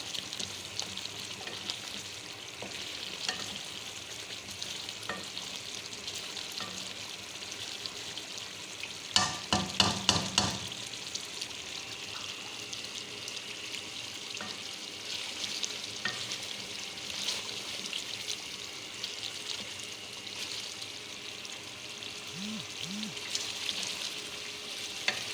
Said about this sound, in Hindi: तकरीबन हम इसको अच्छी तरह भूनेंगे 5 मिनट तक।